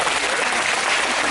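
A crowd claps loudly and steadily at a children's science program at the Kalamazoo Air Zoo, a short dense burst of applause.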